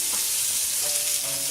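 Onions and garlic sizzle steadily in a hot pan, a continuous close frying hiss with faint stirring scrapes, no voices over it.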